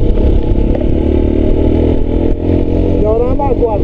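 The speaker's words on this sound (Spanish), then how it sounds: "Y ahora vamos a acelerar un poquito. Vamos en tercera, sin clutch," Motorcycle engine pulling steadily in third gear as the throttle is reopened without the clutch on a descent, a loud continuous drone close by with rising tonal sweeps near the end.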